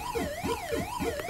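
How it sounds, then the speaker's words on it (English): Wailing siren effect from a Pac-Man style game on the Atari VCS console, a smooth rising-and-falling electronic tone repeating in steady cycles with a pulsing low blip beneath. "Got the siren."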